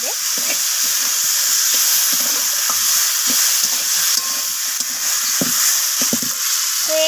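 Vegetables sautéing with sugar in a pan, a loud steady sizzle with repeated short scrapes of stirring spread across the whole stretch, no speech.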